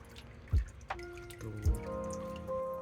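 Water drips and splashes into a stone basin at a Japanese shrine during ritual handwashing, with two distinct close splashes against quiet surroundings.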